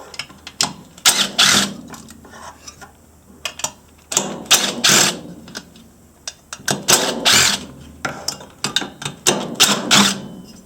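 A tool turns out four screws from the muffler of an Echo CS-590 Timberwolf chainsaw, giving close ratcheting, whirring bursts in several separate spells with short pauses between, and no speech.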